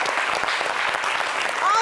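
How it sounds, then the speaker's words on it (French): Audience applause on a French-language local TV holiday show, a dense steady patter of clapping for about two seconds with a brief whistle-like tone near the end. "On applaudit pour Petit Denis"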